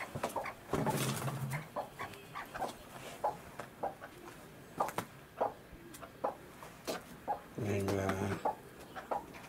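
Hens cluck in short repeated bursts, with a few louder drawn-out squawks, close by and fairly quiet overall, a hen raising partridge chicks.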